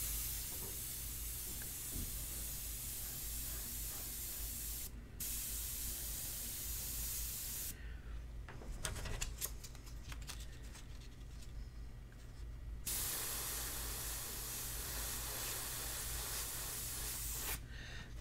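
Airbrush spraying India ink onto paper for a portrait, a close steady hissing spray broken by several short pauses and one longer gap, over a constant low hum.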